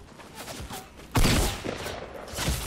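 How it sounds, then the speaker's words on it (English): A single sharp, loud gunshot cracks out in Fortnite, a sniper rifle shot standing out against low background game noise, with faint activity before and after. "I got killed straight away by a sniper"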